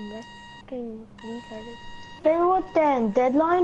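A phone rings with a series of short electronic beeps for about two seconds, and then people talk over a game session.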